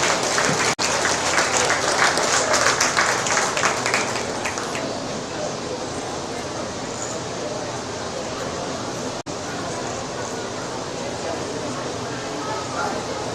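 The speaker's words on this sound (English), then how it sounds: "But let's give them all a big round of applause." An audience at a county sheep show and market lamb show breaks into applause, loud clapping for about four seconds that fades into murmuring crowd noise while an announcer speaks over the arena.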